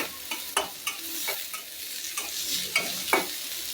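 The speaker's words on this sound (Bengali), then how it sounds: "তো এটা এখন ভাজা ভাজা করবো ভালো করে" Pangas fish curry sizzles in a hot pan as a spatula stirs and scrapes it in repeated strokes, each stroke a sharp close scrape over a constant frying hiss.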